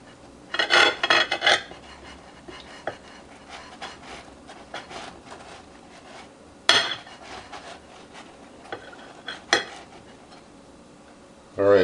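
A knife saws through a hot, freshly baked whole wheat bagel, giving bursts of close rasping and scraping with a few sharp clicks of the blade against a plate or board, separated by quieter pauses.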